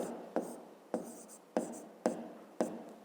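A pen writes an answer in a fifth-grade math exercise book, five quick scratchy strokes at a regular pace, close and quiet.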